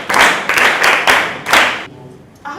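An audience applauds for a child at a reading event: a short burst of loud, close clapping in four quick pulses, then it cuts off into quiet.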